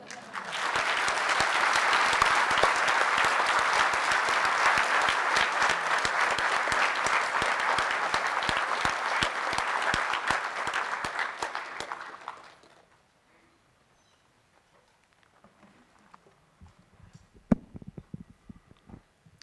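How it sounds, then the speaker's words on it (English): An audience at a spring White Coat Ceremony for a veterinary medicine school gives a welcoming speaker sustained, loud applause for about twelve seconds. It then cuts off into near silence broken by a single sharp knock and a few small handling noises. "Please join me in welcoming Dr. Cott with a thunderous round of applause."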